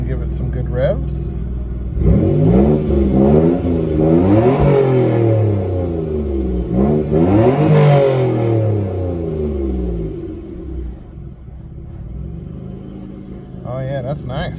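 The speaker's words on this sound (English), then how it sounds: "Now that it has some temperature in it, we can give it some good revs." Classic car engine revved hard once warmed up: repeated rising and falling rev sweeps, loud and close, with a steady idle rumble between and after the blips.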